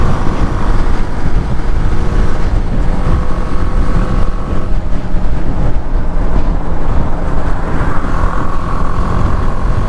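A 2021 BMW G310R motorcycle revs through its mid-range during a test ride. The engine is buried under loud, continuous wind roar across the microphone, with a faint rising engine tone near the end.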